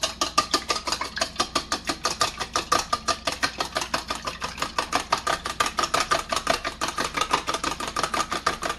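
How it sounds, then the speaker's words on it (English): Egg with a pinch of salt and a little water is beaten into an egg wash for pot stickers, with rapid, evenly spaced whisking strokes ticking against the bowl for several seconds, close and alone. "And whisk it all up."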